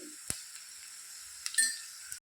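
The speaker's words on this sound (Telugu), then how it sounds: "ఇప్పుడు కర్రీలోకి వెల్లుల్లి కారం వేసుకున్నామండి" Bean curry sizzling faintly in a pan just after garlic chili powder goes in, a soft steady frying hiss with a couple of brief utensil clinks.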